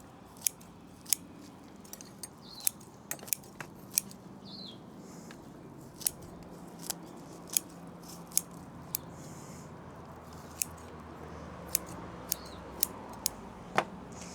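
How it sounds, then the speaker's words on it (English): Bonsai shears cut excess roots from a privet bonsai, making about twenty crisp, close snips at an irregular pace over a quiet background. "I'm going to come in and cut all the excess roots off with my bonsai shears."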